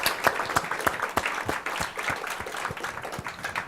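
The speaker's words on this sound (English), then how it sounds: "please a round of applause for this absolutely outstanding panel." A conference audience applauds a panel of speakers, a dense run of many hands clapping that carries on throughout, moderately loud, with no talk over it.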